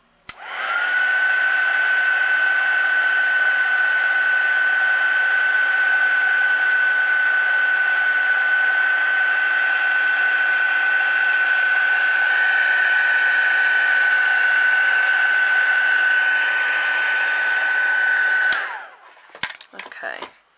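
A heat gun melting embossing powder on a canvas blows a loud, steady whining hum for nearly twenty seconds, close and unbroken, then switches off into a few faint clicks and handling noises.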